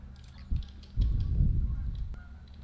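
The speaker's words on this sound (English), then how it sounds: "I hope you can all hear the geese outside my window." Geese honk outside a window, a few scattered calls, fairly faint and at a distance, with one louder burst in the middle.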